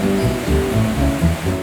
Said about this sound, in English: The largest waterfall we saw was the Kulassaja River.